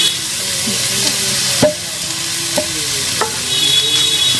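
Onion and garlic drop into a hot frying pan in a village kitchen, hissing loudly as a utensil scrapes and stirs with a few sharp clacks, and a faint high whine runs near the end.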